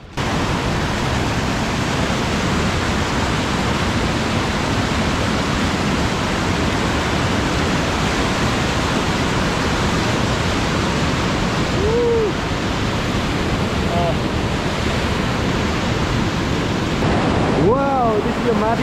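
A mountain stream near Kori, Nepal, rushes beneath a bridge in a loud, constant roar of white water, with brief faint voices near the end.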